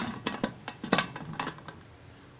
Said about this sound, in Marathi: आता मी कुकरचं झाकण लावत आहे